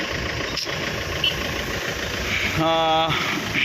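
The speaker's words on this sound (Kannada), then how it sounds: "ಗಾಡಿ ಉಂಟು ದೊಡ್ಡ ಗಾಡಿ ಬರ್ತಾ ಉಂಟು" A large vehicle's engine rumbles steadily on a main road, with a brief tonal honk near the end, heard beneath a person talking close by.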